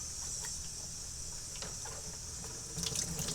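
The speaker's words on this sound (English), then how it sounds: "let's go ahead and rinse these off" Water runs steadily from a tap as a pair of Nike Foamposite Pro shoes in gray wool are rinsed beneath it, a continuous close hiss with a few faint splashes.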